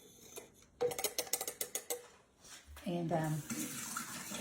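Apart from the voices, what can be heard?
water poured over ice into a glass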